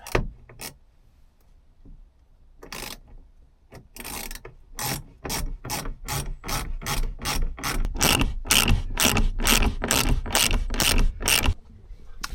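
Ratchet wrench tightening bolts on the framing of a Fiat Ducato L1 H1 campervan, a quiet start followed by a fast, steady run of sharp clicking strokes, loud and close, ending abruptly.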